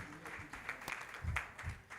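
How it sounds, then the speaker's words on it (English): Audience applause at an outdoor university building groundbreaking ceremony, a steady patter of many hands clapping at moderate distance for the full two seconds, with no voices on top. "let's give them a big round of applause"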